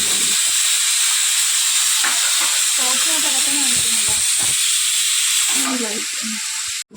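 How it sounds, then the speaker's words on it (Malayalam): Tomatoes and onions sauté in a pan with a constant loud sizzle and hiss while someone talks over it. The sizzle eases near the end. "എന്നിട്ട് നമുക്ക് ഇതിനകത്തോട്ട് തക്കാളി ഇട്ട് കൊടുത്ത് നല്ലപോലെ വഴറ്റിയെടുക്കാം തക്കാളി."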